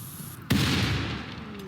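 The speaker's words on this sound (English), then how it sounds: "It exploded it and the roof collapsed." An explosion in RimWorld brings a roof crashing down, a single loud, broad blast that hits suddenly and then trails off into a sustained rumbling roar of collapse.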